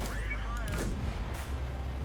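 Enemy tank fire in World of Tanks: a heavy cannon boom with rumbling low end lands early, followed by a sustained battle roar and a second muffled impact, fairly loud against constant game noise.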